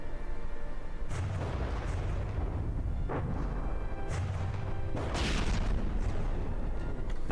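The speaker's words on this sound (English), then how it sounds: "More bombs popping in here." Bombs detonate in the naval combat game From the Depths as a run of deep, booming explosions at irregular intervals over a constant low rumble, with a few sharper bursts standing out.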